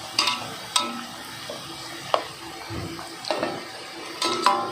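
Chicken rolls shallow-frying in oil over a medium flame, a steady sizzle with intermittent clinks and scrapes of a utensil against the pan.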